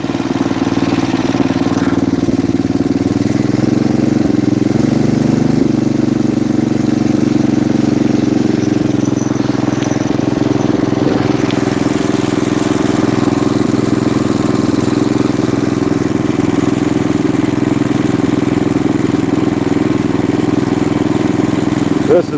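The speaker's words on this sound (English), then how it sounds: "It's been a while since I ran a snowblower. Gotta get it up this hill here." A snowblower engine runs steadily at a constant drone while the machine is driven up a hill, a continuous loud mid-pitched hum with faint background voices.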